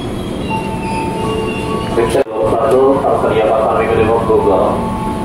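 A commuter electric train bound for Bogor rumbles steadily close by at Tebet station, with a brief dropout midway, followed by a louder rush of rolling carriages and faint metallic squeals.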